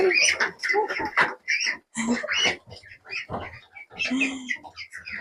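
Mulard ducks quacking and chattering in a busy flock as they are moved outdoors, the calls coming in quick overlapping bursts, close and fairly loud.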